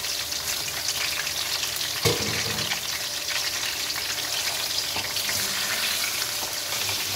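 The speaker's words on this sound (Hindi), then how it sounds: "अब चिकन हमारा अच्छी तरह फ्राई हो जाए, फिर इसमें मैं मसाले डालूँगी।" Chicken pieces fry in hot oil for a black pepper karahi, a steady dense sizzle and crackle running throughout with a brief louder burst of spatter or a stir near the two-second mark, and no talking.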